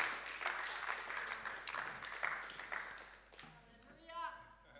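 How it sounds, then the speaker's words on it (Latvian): A church congregation clapping their hands during a worship service, a rapid, uneven patter of claps under speaking voices, fading as sung or spoken sounds take over near the end. "Clap your hands for Jesus."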